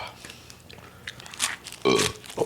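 Someone eats spicy Thai bamboo shoot soup with beef and fresh vegetables: close-up biting and crunchy chewing with a few slurpy mouth noises, occasional louder crunches, and faint voices around.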